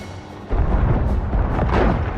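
Ship cannon fire booms in Sea of Thieves during a sea fort battle: a sudden deep blast about half a second in, followed by a rumbling, rolling low roar that sustains loudly to the end.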